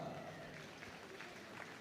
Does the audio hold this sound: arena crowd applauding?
yes